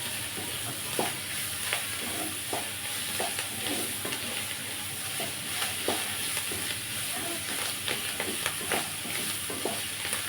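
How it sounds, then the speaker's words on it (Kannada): Ridge gourd chutney ingredients with a little jaggery fry in oil, giving a steady close sizzle broken by repeated scraping stirs throughout, with no voices. "ಎಲ್ಲನೂ ಚೆನ್ನಾಗಿ ಎಷ್ಟು ಚೆನ್ನಾಗಿ ಫ್ರೈ ಮಾಡ್ತೀವೋ ಆಯಿಲಲ್ಲಿ ಚೆನ್ನಾಗಿ ಬರುತ್ತೆ ಚಟ್ನಿ."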